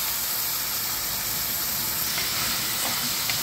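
Soaked chana dal tipped into a pan of hot oil for a cauliflower and tomato dish, crackling in a dense, steady sizzle with hissing steam, heard close up throughout and free of talk.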